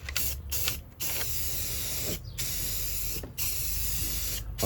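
Aerosol can of rusty metal primer spraying onto a Freightliner FLD120 truck seat base, steady close hissing bursts of about a second each, separated by short pauses.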